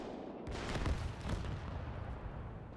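Artillery fire in the Gates of Hell war game during an ambush on a Soviet convoy, heard as a steady roar of distant, overlapping booms and rumbling blasts for nearly three seconds, with no talk.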